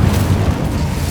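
A loud, booming burst of the Incendio fire spell in Hogwarts Legacy, a short heavy whoosh-like blast filling the moment on its own.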